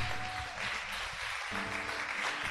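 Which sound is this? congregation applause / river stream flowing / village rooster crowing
congregation applause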